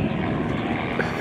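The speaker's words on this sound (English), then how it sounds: "bring the airplane back. Gently, please." Propeller airplane engine droning steadily at an evening airshow during a T-Clips aerobatic performance, a loud continuous broadband roar that holds even throughout.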